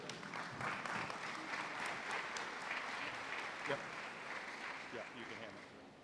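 Audience applause at an open house for the Historic Gas Plant District in St. Pete, Florida, greeting a bid presentation. Moderate, steady clapping runs throughout and fades slightly toward the end.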